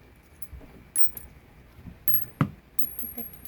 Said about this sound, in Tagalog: Lahat ng barya. Lagay mo dyan.